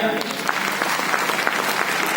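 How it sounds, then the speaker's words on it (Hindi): A crowd claps for a guest at a business platform gathering in a hall, steady dense applause at moderate level with faint music underneath, no clear talk. "और सचिन दीक्षित सर के लिए एक जोरदार तालियां।"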